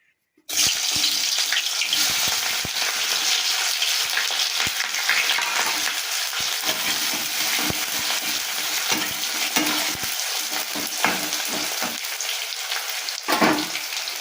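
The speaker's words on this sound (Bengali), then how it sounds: "এবার আমি পেঁয়াজ কুচিগুলো তেলের মধ্যে দিয়ে দেবো" Chopped onions hiss and crackle loudly in hot oil, a steady close sizzle with occasional stirring clicks throughout.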